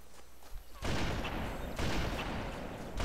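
Gunfire in the Halo video game, a sudden loud burst of shots erupting after a quiet moment and continuing as dense, rapid fire with a second surge near the end.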